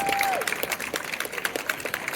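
Scattered applause from an outdoor audience at a harbour festival dance performance, distinct claps in an irregular rhythm, moderately close, with a brief tonal sweep at the start.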